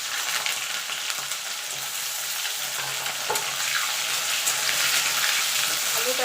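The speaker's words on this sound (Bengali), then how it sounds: "আমি আলুটা ভেজে দিচ্ছি" Potatoes frying in oil for a festive cabbage dish, a loud, close, continuous sizzle with occasional stirring scrapes and faint crackles.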